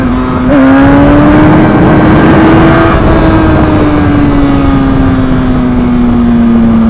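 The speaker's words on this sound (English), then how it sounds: "then you accelerate to 100 kilometers per hour, gas off and give" Motorcycle accelerating hard toward roughly 100 km/h for a power wheelie, a loud, close, sustained engine drone with a steadily rising then slowly falling pitch, running alone without talk.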